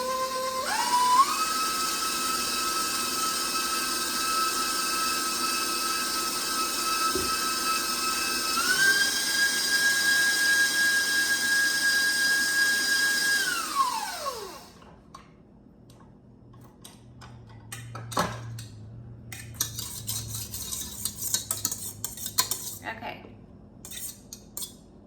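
Colour is mixed into macaron batter with an electric mixer. Its motor whines steadily, steps up in speed, then winds down and stops, followed by scattered clinks of bowl and utensils.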